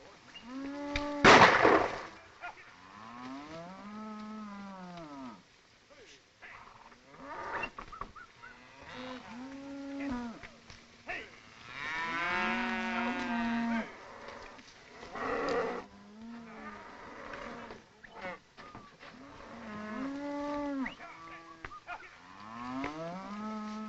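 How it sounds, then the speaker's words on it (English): Cattle in a 1936 Western film moo repeatedly, near and far, with long drawn-out bellows at irregular intervals, and a sharp, loud crack like a gunshot early on. "Where are you going with my cattle?"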